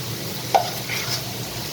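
Two spoonfuls of butter for a white sauce melt and sizzle softly in a kadhai, a steady faint crackle with one brief clink partway through.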